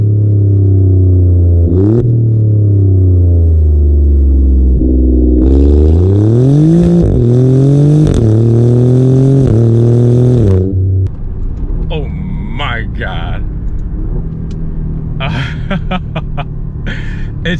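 A 2024 Alfa Romeo Giulia Quadrifoglio in manual race mode revs hard through rising gears, loud and close from the cabin, with sharp upshift breaks, then eases to a lower rumble with some clicks and noises near the end.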